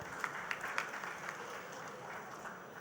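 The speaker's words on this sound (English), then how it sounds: "A little round of applause for our industry" A crowd gives steady applause at an Indian logistics industry event, a dense wash of many hands clapping from a distance, with a few sharper claps standing out near the start and no speech over it.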